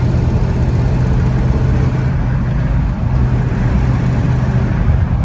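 Car engine with a hesitation fault giving off a rough, diesel-truck-like drone while moving, steady low rumble throughout with road noise, no talking.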